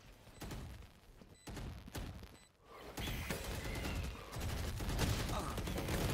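Gunfire in a tactical shooter video game played at a collegiate esports match, rapid crackling shots and bursts in several clusters, moderately loud with faint background commentary.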